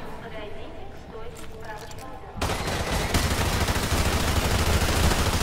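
Rapid automatic gunfire rings out in the No Russian mission of the Modern Warfare 2 Campaign Remastered video game, a dense, loud, continuous burst of shots that swells midway, with game voices underneath.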